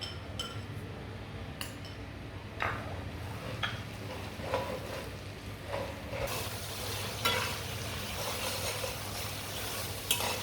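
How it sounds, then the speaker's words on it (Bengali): White mustard paste fries in a pan while making an olive pickle: a continuous close sizzle under intermittent spoon clinks and scrapes, loudest toward the end. "সরিষাটা দেওয়ার পরে কিছুক্ষণ ভেজে নিয়েছি, প্রায় 2-1 মিনিটের মতো।"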